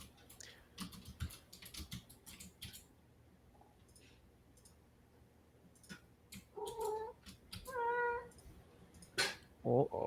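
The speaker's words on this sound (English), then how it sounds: "Oh, we have a kitty on board." A pet cat meows several times close to the microphone during a tabletop gaming podcast session, mixed with scattered keyboard typing clicks and quiet room noise.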